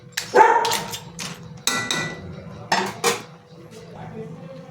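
Crabs cooking with bottle gourd are stirred in a pot, then the lid goes on: a few sharp metallic clanks and scrapes of a utensil against the pot, close and fairly loud over a low background hum.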